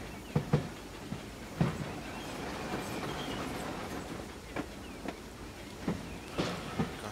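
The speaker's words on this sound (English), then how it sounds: "We've come to watch the steam train." A 2F dock tank steam locomotive runs on the Falmouth branch line, its wheels giving a loud, fairly close rolling rumble with irregular clickety-clack knocks over rail joints, and no voices.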